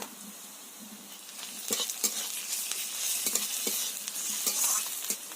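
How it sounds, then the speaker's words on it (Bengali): Onion and garlic paste frying in a pan, a soft continuous sizzle with repeated scraping stirs and light clicks of a spoon against the pan, close and moderately quiet. "রসুন দিয়ে খুব ভালো করে ভাজা হয়ে গেছে"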